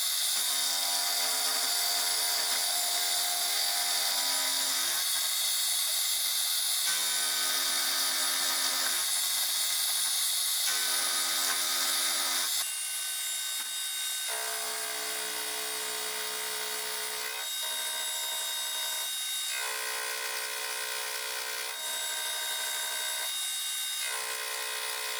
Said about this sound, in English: With that done, I'll machine the matching dovetail.